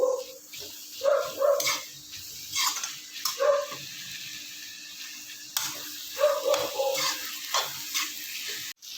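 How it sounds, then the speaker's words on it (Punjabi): Crushed green chillies, garlic and ginger frying in a pan for jhaar karela, a steady sizzle with clinks of a stirring spoon, a dog barking intermittently nearby. "ਹੁਣ ਪਾ ਦਾਂਗੇ ਕੁੱਟੀਆਂ ਹੋਈਆਂ ਹਰੀਆਂ ਮਿਰਚਾਂ ਤੇ ਲਸਣ ਤੇ ਅਦਰਕ ਨੂੰ ਵੀ ਚੰਗੀ ਤਰ੍ਹਾਂ ਸੇਕ ਲਵਾਂਗੇ"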